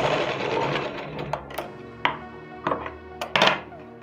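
A sewing machine runs in a steady stitching burst while a blouse strip is sewn with long stitches, followed by a few short clicks and knocks of handling near the machine; no talk.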